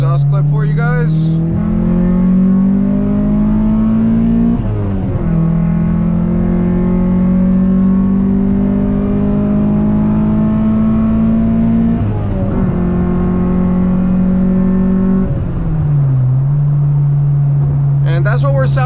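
A Honda Prelude engine drones and revs with a deep, raspy exhaust note before the resonator, rising and falling through several pulls, loud and close.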